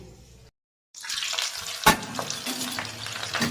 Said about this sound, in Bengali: এইভাবে আমি সবগুলো ভেজে তারপরে আমি আসছি।